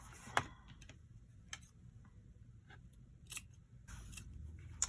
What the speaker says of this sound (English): I'm just going to cut them